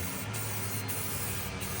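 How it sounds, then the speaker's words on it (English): Steady, close hiss of a spray can laying a third coat of paint on a wheel of a 1979 Ford Econoline E-250 van, continuous with no talk. "All right, finna spray third coat on this mug."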